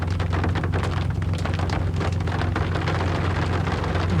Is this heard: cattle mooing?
no